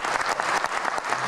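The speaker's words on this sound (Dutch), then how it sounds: "mag ik even een applaus voor Bram." A cabaret audience at a gala bursts into applause, a dense burst of clapping that fills the whole moment with no talking over it.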